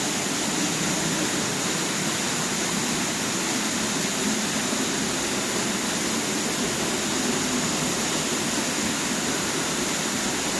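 A waterfall pours into a deep pool in a Dolomite canyon, a loud, dense, unbroken roar of rushing water heard close up and alone for the whole stretch.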